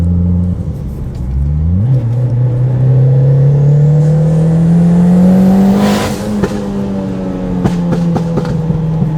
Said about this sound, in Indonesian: Makanya nih kalau mau bawa mobil ini harus nyalain anti-lag system.